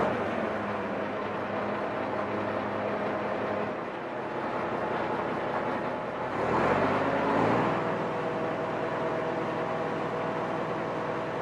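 A WWII RAF bomb train of lorries pulling loaded bomb containers out toward the aircraft: a steady motor drone with a brief louder swell midway, moderately distant and without speech.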